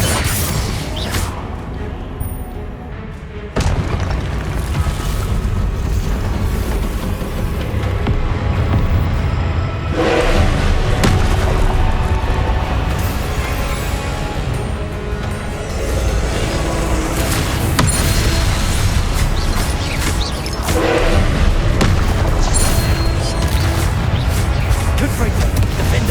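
Booming spell blasts from Confringo and Incendio in the Hogwarts Legacy video game. Several heavy crashing explosions land throughout a dense, continuous battle din, with a voice speaking in parts.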